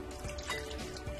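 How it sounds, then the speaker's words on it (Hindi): Water poured into a bowl holding vinegar and salt, a brief, soft, steady splashing stream with a faint trickle, heard alone. "डाल देते हैं पानी"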